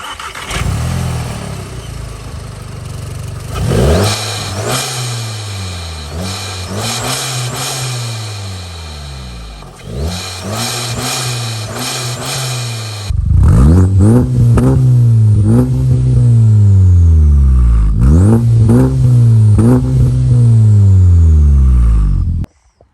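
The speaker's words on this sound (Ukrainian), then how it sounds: "такий у нас вихлоп на тій машині" Exhaust of a 300-horsepower Volkswagen Jetta GLI being revved: a string of loud, close throttle blips rises and falls, then a harsher, louder run of rapid revs takes over in the second half.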